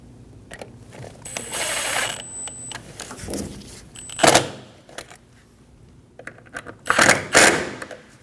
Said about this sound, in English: Drop the coolant reservoir down into place and get the screws started.